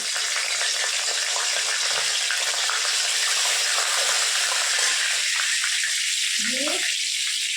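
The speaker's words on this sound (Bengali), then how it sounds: "তেলটা গরম হয়ে গেছে এর মধ্যে তেজপাতা আর শুকনো লঙ্কা দুটো দিয়ে দিচ্ছি" Bay leaves and two dried chillies sizzling in hot oil in a home kitchen pan, a loud steady hiss of frying throughout with a brief clink near the end.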